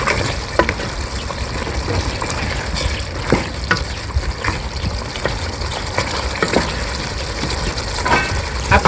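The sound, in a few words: meat simmering in a pot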